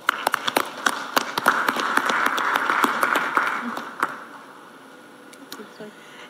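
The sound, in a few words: audience applause for a panel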